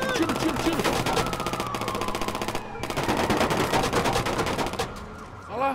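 Rapid bursts of Watch Dogs 2 gunfire, dense and continuous, with a short gap midway, under loud engine and effects noise.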